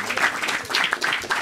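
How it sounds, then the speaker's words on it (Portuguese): Brief audience applause in a room of people, dense clapping held steady at close range with faint voices mixed in. "Eu te acho que te merecia uma salva de palmas"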